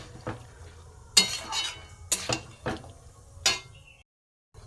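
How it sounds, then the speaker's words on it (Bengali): Washing out a bowl in the kitchen while making a Bengali lau data chorchori, with clinks and scrapes of dishware and water splashing and pouring in a few short, close bursts, then a brief silence. "বাটিটা ধুয়ে একটুখানি জল দিয়ে দিলাম।"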